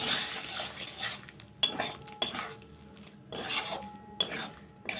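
A spoon scrapes and stirs through a pan of egg Manchurian sauce as cornflour water is mixed in, sounding as rhythmic metallic rasping strokes with occasional sharp clinks against the pan, close and clear with no talking.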